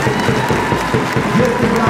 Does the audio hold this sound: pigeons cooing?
no